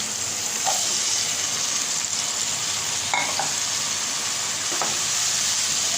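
Pieces of bitter gourd frying in a pan, a steady bright sizzle throughout with a few soft stirring knocks against the pan, close and alone without talk.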